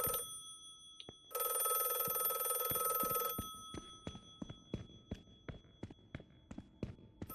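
A telephone bell rings loudly in a video game, one long sustained ring followed by a quieter short burst, then a steady run of sharp, evenly spaced footstep-like taps continues alone.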